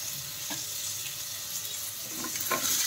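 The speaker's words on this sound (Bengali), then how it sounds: "এবার দিয়ে দেওয়া হচ্ছে এতে সবজিগুলো একে একে" Green banana, potato, papaya, eggplant and stalks drop one by one into spices frying in hot oil, making a constant close hiss and sizzle broken by a few sharp crackles and spatters.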